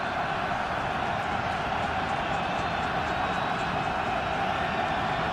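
Steady roar of a football stadium crowd at an NFL game between the 49ers and Eagles in Philadelphia, a dense, even wash of cheering voices held at a distance with no distinct peaks.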